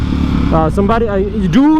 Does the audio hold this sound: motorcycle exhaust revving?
yes